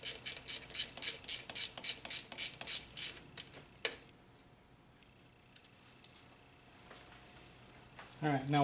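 A hand ratchet tightens a bracket bolt on a Honda Accord 2.4L during starter replacement, a rapid series of close clicking strokes for about four seconds, then a sharp clank and quiet shuffling before a final rattle.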